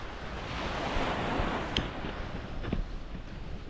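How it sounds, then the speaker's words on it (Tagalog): Ocean surf rolls in on a shore in Japan, a continuous loud wash of waves with wind buffeting the microphone and a couple of faint splashes. "na-miss ko yung tagwak ng alon"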